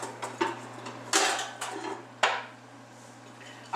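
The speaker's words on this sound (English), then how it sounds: "Alright, going to get a little pan here." A small pan is pulled from a stack of pans in a home kitchen, giving a few sharp metallic clanks and scrapes with a steady low hum behind.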